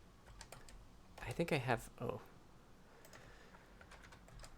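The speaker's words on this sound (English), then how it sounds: "typing." Close clicking of computer keys tapping out irregularly, with a short burst of speech partway through the clicks.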